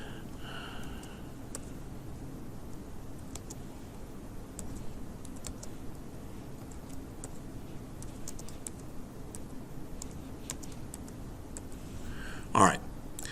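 Fast typing clatters on a computer keyboard during a programming session, a steady run of light clicks close by under a faint voice, ending in one louder knock near the end.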